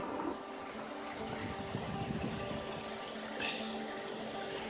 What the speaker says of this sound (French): Le ruisseau qui coule.